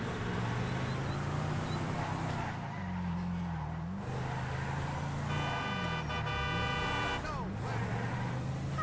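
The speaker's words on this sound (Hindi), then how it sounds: "ये देखो भाई किसान भाई जा रहे हैं भाई ट्रैक्टर पर" A tractor carrying farmers rolls past on a village road with a low, droning engine note that shifts in pitch, a horn sounding midway and voices faint in the background.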